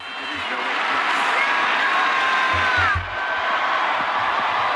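An arena crowd at the Rocky IV boxing fight cheers for Rocky: a thick, constant roar of many voices, with a brief dip near the end before the noise swells again.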